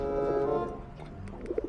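Soft racing pigeon coos, a low throaty warble rising and falling, with a couple of brief notes near the end; close and fairly quiet.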